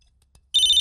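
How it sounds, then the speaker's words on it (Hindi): A phone ringtone starts abruptly after a quiet moment, a loud steady electronic ring with bright tonal harmonics, close by. "भाई का फोन है।"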